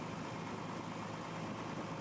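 Combine harvester engine idling in Farming Simulator 22, a steady low rumbling drone that holds even and unbroken throughout, with no talk over it.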